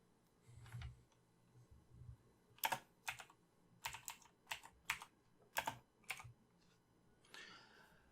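Typing on a computer keyboard in a quiet room, a document title entered in capital letters: a sparse series of crisp, close key clicks in small clusters with short pauses between them.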